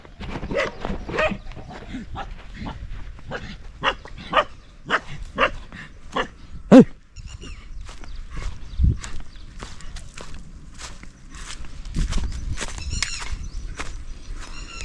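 A Doberman barks repeatedly in sharp, irregular bursts, close by, with footsteps and a few voices mixed in.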